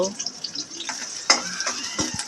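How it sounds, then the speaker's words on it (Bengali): Chopped onion fries in oil in a wok with a soft, patchy sizzle. Gentle stirring clatters now and then through it, and a voice talks over it. "পেঁয়াজটাকে এবার তেলের সাথে একটু ভেজে নেব"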